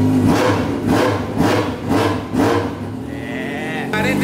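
A Yamaha XJ6 motorcycle with 44,000 km on it is revved repeatedly, its engine note swelling and falling in rhythmic pulses up close before settling into a steadier whine.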